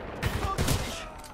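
Gunfire in the video game Titanfall 2, a dense fusillade of overlapping shots in quick bursts with a voice briefly heard amid the shooting.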